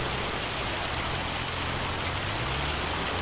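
Steady rain in the Farming Simulator 25 game, a dense continuous hiss of falling drops filling the whole stretch at an even level, with no voices over it.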